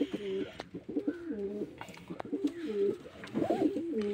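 Pigeons coo at their nest among eggs and chicks, with repeated close, throaty rolling calls in overlapping bursts and soft thumps and rustles between them.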